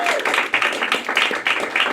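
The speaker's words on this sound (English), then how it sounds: "clap it up for her, guys" Several people clap together in a loose, fairly close burst of applause, with a quick uneven rhythm lasting a couple of seconds. Audience at a comedy club.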